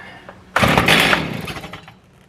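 A choked Stihl chainsaw that had been running rough and stalling fires up suddenly, bursting into a loud, rough engine roar that fades and sputters down within a second or two.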